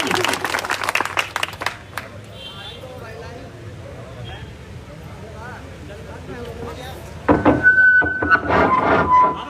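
A crowd at a political rally in Bihar claps in a brief burst of applause, then the noise drops to a murmur of voices and a microphone check before clapping swells again near the end.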